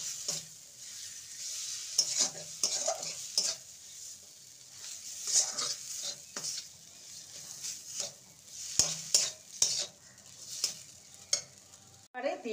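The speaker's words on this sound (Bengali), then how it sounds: "ভালো করে নেড়ে নেব।" A spoon stirs boiled, mashed potato filling in a pan. Repeated close scrapes and soft knocks come in uneven bursts over a faint sizzle, with no talking.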